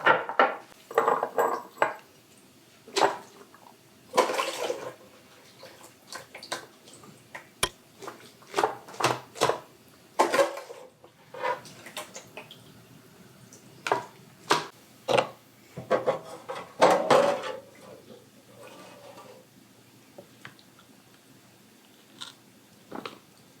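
Shredded cabbage for pickled coleslaw is packed into canning jars and brine is ladled over it, making intermittent clinks, scrapes and wet knocks of utensils against glass with quiet gaps between.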